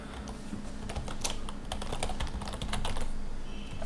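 Rapid clicking of keys on a computer keyboard as an email address is typed, steady and close, with no voices.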